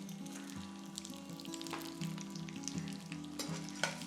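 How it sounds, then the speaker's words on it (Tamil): Peanuts and split roasted gram fry in oil, crackling and popping quietly in a busy sizzle with frequent small spits and a few stirring scrapes, close but faint with no voices. "ஒரு கை வேர்க்கடலை, ஒரு கை உடச்ச கடலை போட்டுக்கலாம்."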